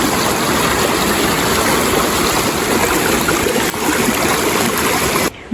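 Loud, steady rush of a flowing creek at a trail crossing near North Coldwater Creek, continuous broadband water noise close by, cutting off briefly at the end.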